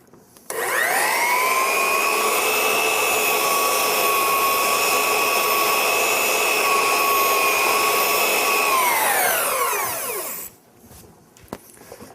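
A Bosch belt sander whines at a steady, high-pitched pitch for about ten seconds while its belt is run against an abrasive cleaning stick, close and loud, then winds down to a stop.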